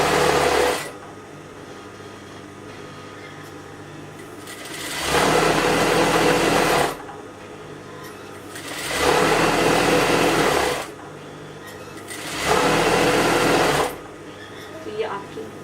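Electric sewing machine stitching elastic on trousers, three sustained runs of close whirring motor and needle clatter separated by quieter pauses where a voice can be heard in the background.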